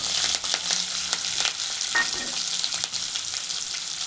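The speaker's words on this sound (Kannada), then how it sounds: "ಈರುಳ್ಳಿ ಒಂದು ಎರಡು ನಿಮಿಷ ಫ್ರೈ ಮಾಡ್ತೀನಿ" Steady, dense sizzling of onions and curry leaves frying in a hot pan, with occasional stirring clinks and scrapes, close and continuous, no voices.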